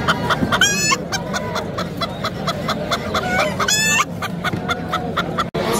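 Chickens cluck repeatedly nearby at a market in a busy, overlapping chorus, with two brief louder squawking bursts standing out among the rhythmic clucks.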